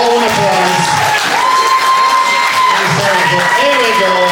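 A crowd claps and cheers loudly in a sustained wash of applause, with whoops and a voice over the top.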